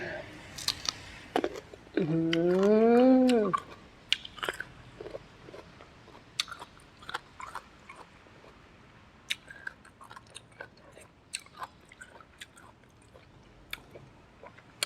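Sharp crunchy bites and chewing of crisp, sour mango with sweet fish sauce, repeated in close irregular clicks with a short burst of speech early on.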